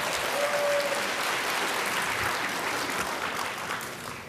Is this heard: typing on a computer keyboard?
no